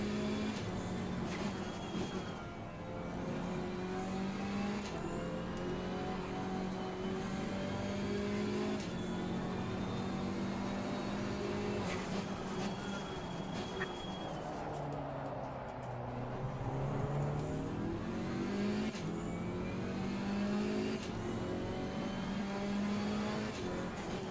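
A GT4 race car in Assetto Corsa Competizione laps Snetterton, its engine droning steadily throughout with rising and falling pitch through gear changes and corners, heard up close and loud.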